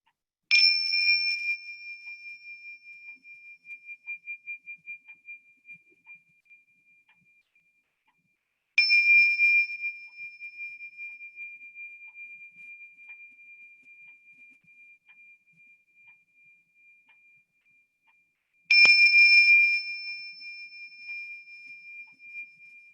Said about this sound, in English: I'm going to ring these chimes 3 times